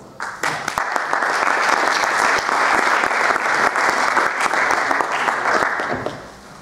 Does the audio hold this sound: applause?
yes